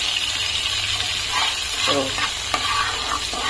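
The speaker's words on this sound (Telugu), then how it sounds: "కొంచెం నూగులు ఇవి కూడా తాలింపులో వేద్దాం ఇలా వేయించుకొని" Oil sizzles and crackles steadily as sesame seeds fry in a hot pan for tempering, with light stirring scrapes and a faint voice in the background.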